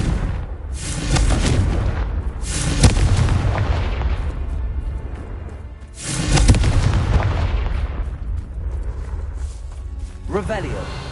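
Two big fiery spell blasts from Hogwarts Legacy burst out loudly several seconds apart, each trailing into rumbling decay, with a spoken incantation and a faint game chime near the end.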